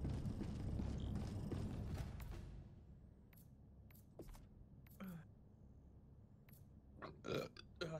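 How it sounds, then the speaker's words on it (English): A long, loud, rumbling burp from a man comes up close during a gaming session, then fades into scattered quiet clicks and small noises. "Dude, I'm just burping up a storm."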